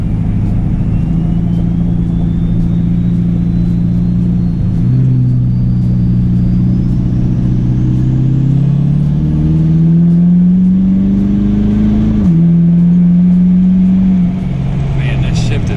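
A Ford 6.7 Powerstroke diesel pickup with a non-VGT turbo and 6R140 transmission, loud and close, revving hard with rising turbo whistle and a clear gear shift drop before climbing again; voices talk over it.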